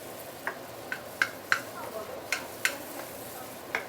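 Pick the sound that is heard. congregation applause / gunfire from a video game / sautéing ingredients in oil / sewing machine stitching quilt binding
sautéing ingredients in oil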